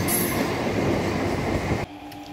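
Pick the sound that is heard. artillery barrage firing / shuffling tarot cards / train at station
train at station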